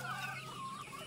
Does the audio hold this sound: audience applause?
no